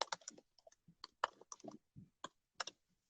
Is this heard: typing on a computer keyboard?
yes